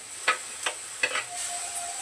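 Tomato puree and onions sizzle softly in a pan while a spoon stirs them in three or four quick scraping strokes, followed by a steady faint frying hiss.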